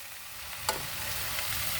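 Plant-based Beyond steak sizzles in a hot stir-fry pan with broccoli, a steady faint frying hiss with one brief clatter as the pieces are tossed in.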